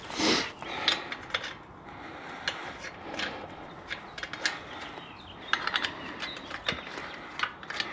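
A wrench torques bolts to around 150 on a 2024 Mustang GT. Close ratcheting clicks and mechanical rasping repeat in irregular bursts, with no talking.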